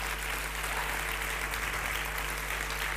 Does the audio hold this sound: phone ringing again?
no